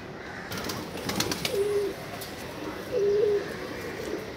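Teddy pigeons cooing in a loft, two short low coos a second or so apart over soft background rustle and ambient noise, close to the microphone.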